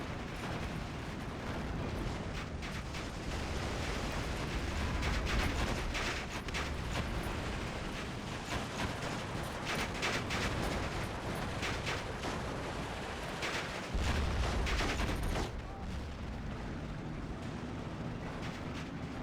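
Dense, continuous battlefield noise from an Eastern Front WWII video game, with rattling gunfire, mechanical clatter and occasional heavier booms layered together at moderate distance, steady throughout with no talk.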